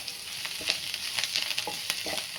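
Baingan bharta with a little fresh coriander sautéing in a pan, giving a steady close sizzle with a few soft stirring scrapes and clicks.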